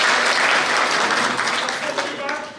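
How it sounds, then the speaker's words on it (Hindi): Brief burst of audience applause at a community committee meeting in Zafrabad, Delhi, with dense clapping from a crowd close by that tapers off toward the end, voices mixed in. "ताली होनी चाहिए।"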